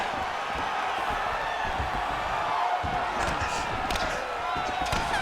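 An arena crowd at a fight event roars and applauds fighters after a grappling exchange, a dense, continuous wash of cheering and clapping with scattered whoops throughout.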